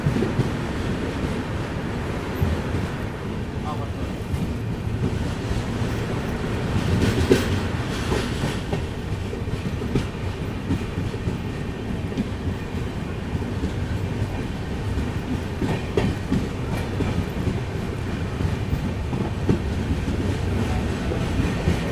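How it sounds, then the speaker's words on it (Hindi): Aboard the Pune–Hyderabad Shatabdi Express as it runs along the rails, a steady low rumble fills the carriage with a faint rhythmic clickety-clack of wheels, continuous throughout and without voices. "ट्रेन ही निकल गई यहाँ से अपनी"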